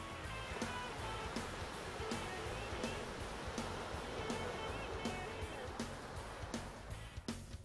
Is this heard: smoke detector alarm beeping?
no